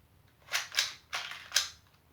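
A plastic Chinese shell-ejecting foam dart blaster toy fires four sharp snapping pops, two close together and then two more spaced apart, loud and near with nothing else around them.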